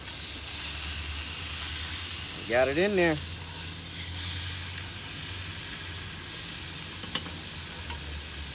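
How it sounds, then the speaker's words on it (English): Beef back ribs searing in a cast iron pan over coals, a steady close sizzle and hiss that runs throughout, with a brief spoken remark partway through. "Nice sear, I can hear it going."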